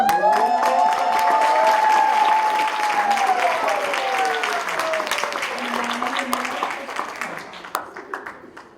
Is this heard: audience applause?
yes